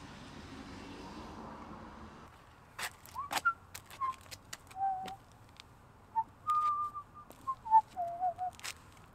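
A person whistles a series of short, wavering notes and brief melodic phrases, fairly quiet, with a few sharp clicks between them after a faint background rumble.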